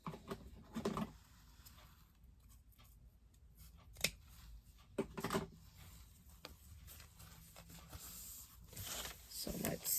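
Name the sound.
scissors cutting fabric for a poop bag holder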